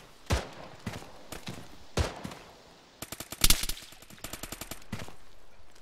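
Rapid bursts of machine pistol fire in the ArmA 3 military shooter, starting as a few spaced single shots, then a dense rattling volley with several louder cracks, fairly close and without talk.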